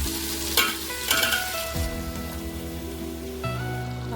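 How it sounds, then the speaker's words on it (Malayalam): Eggplant is stirred into a frying biryani masala, a sizzling pan with scraping stir strokes and clatter near the start, then a steady hiss under low tonal hum. "ഈ വഴുതനങ്ങയില്ലേ അത് ഇതിലിട്ട് മിക്സ് ചെയ്യാം കേട്ടോ"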